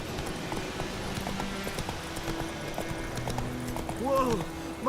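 Hooves of the horse Roach clip-clopping in The Witcher 3, a rhythmic patter under a man's spoken lines, with a short whinny near the end.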